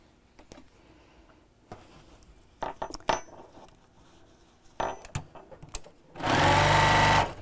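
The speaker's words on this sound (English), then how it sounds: "And we'll sew again." A sewing machine stitches a curved-top tote bag in one loud, steady burst of about a second, after several seconds of quiet fabric handling and small clicks.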